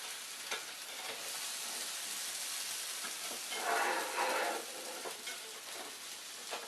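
Quesadilla grilling on a panini press, a steady soft hiss with a brief louder surge of sizzling midway, faint and even throughout, no voices.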